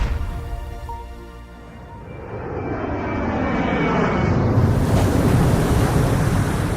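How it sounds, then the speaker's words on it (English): Fiji Airways airliner cruising over the Pacific Ocean: a steady, broad jet engine roar that swells and thickens into a loud rushing wash, with no voices. "I'm flying over the Pacific Ocean."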